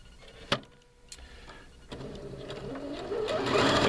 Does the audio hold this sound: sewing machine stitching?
yes